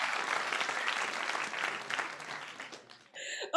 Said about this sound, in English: listen to all that real applause